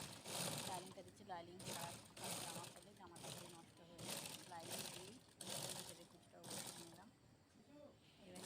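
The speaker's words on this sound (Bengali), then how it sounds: "সোজা পিঠে আমি চাপ সেলাই দিয়ে নিচ্ছি" A sewing machine stitches a dress in short repeated bursts of rapid clatter with brief pauses between runs, while someone talks over it.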